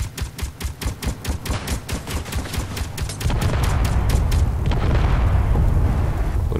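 Automated turret gunfire in the Space Engineers video game, a loud rhythmic string of rapid shots that gives way to a dense, sustained roar of explosions and blasts.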